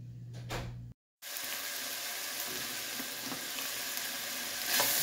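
Ground beef browning in a pan gives a continuous close sizzle and crackle, briefly cut off near the start, then steady with faint scraping and no speech.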